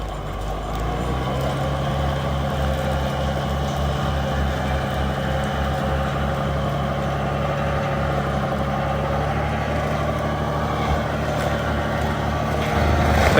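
A Belarus 2022 tractor on dual rear wheels, 212 horsepower, fitted with a PRF-240 ditch-bank cutter, runs with a steady deep diesel drone and a low rhythmic throb, loud and constant throughout and swelling slightly at the end.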